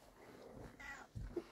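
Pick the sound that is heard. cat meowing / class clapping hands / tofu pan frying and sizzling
cat meowing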